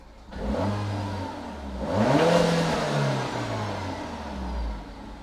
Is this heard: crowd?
no